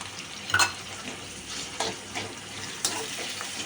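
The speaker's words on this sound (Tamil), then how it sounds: "இந்த தக்காளியும் வெங்காயமும் வந்து நல்லா வதங்கணும்" Tomatoes, onions and green chillies sauté for rava upma in one pot, giving a soft, steady sizzle broken by a few sharp stirring scrapes, close and without talk.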